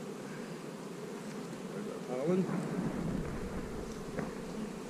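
Honey bees buzz steadily throughout while an open beehive is worked during a colony split, a dense droning hum heard close by, with a brief spoken phrase over it.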